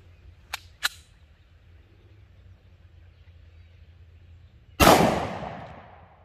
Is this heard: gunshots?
yes